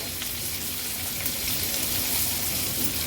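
Asafoetida, chopped green chillies, garlic and ginger hit hot oil for a tempering, giving a steady crackling sizzle that stays close and even with no talking over it.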